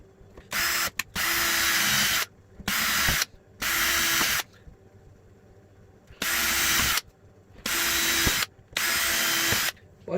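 A power drill whirs in six short bursts of about a second each, drilling small holes in a guitar body, separated by brief pauses, close and loud.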